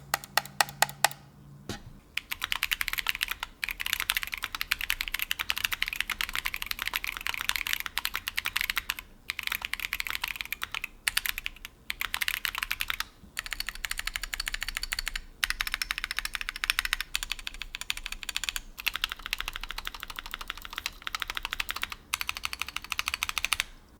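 Steady typing on a Keychron Q5 Pro keyboard with K Pro Banana switches: close, crisp keystroke clacks in fast bursts with brief pauses between runs.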